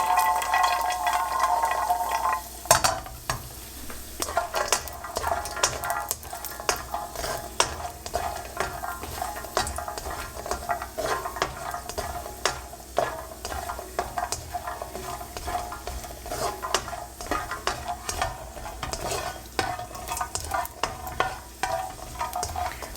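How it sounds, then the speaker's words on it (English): Cashews fry in a small amount of oil in a pan over lowered heat, giving a steady, moderately loud sizzle with frequent stirring scrapes and clicks running throughout and no talking. "We're going to fry these cashews up really quickly."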